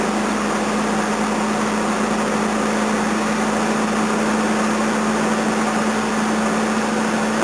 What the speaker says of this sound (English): that's with the choke on. I'll let that run for a bit.